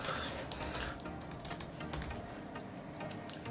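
Typing on a computer keyboard: quick, light, irregular key clicks in a continuous run, close and fairly quiet, with no voice over them.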